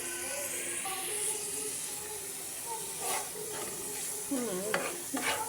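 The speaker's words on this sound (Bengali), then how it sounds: "এটাকে আমি তাও আর একটু কষাই নিব, যেহেতু আদা রসুনও আছে।" Fish in ginger and garlic masala sizzles and hisses steadily in a pan while a spoon stirs and scrapes it, with a few louder scraping strokes near the end.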